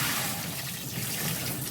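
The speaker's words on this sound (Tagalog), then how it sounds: "Lalagyan ko ng tubig." Water poured into a washing machine tub during a drain plug leak repair, a brief, loud, continuous rushing splash heard alone.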